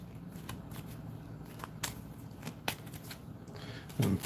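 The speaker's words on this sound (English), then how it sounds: "let me give that a shuffle." A loot deck of playing cards is shuffled during a tabletop game session, giving soft rapid riffling and flicking at close range with a few sharper snaps and a louder rustle near the end.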